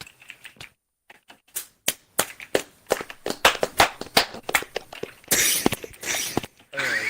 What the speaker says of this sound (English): give a round of applause to Sam Riblet.